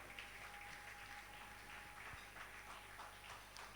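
A church congregation gives a round of steady applause, heard as faint, even clapping from a distance that holds throughout without voices.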